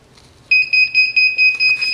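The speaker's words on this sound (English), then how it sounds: "So it will start beeping" A heat press machine gives a sharp, high electronic beep that starts abruptly and then repeats in quick, even pulses, loud and close, with no talk.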